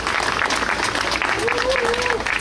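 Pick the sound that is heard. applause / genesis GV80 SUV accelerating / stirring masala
applause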